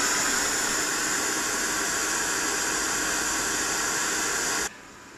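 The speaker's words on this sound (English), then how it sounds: "Next is white noise, which he is listening to now to sleep." Steady broadband hiss of a white noise player used to lull a newborn to sleep, constant and fairly loud, cutting off abruptly near the end.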